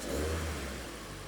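A car engine revving as the car drives out of the shop under its own power for the first time, a close mid-pitched rev that swells early and then settles to a steady drone.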